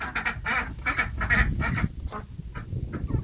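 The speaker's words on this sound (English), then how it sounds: "the ducks are loving their cleaned out coop" Ducks quack loudly and close by in a freshly cleaned-out coop, several overlapping calls in quick, uneven bursts with a brief pause partway through.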